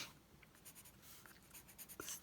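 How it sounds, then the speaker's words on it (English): A pencil marking a short line on paper in a craft journal, a faint scratchy stroke with a few light taps, quiet and close. "So let me just mark with a bit of a pencil."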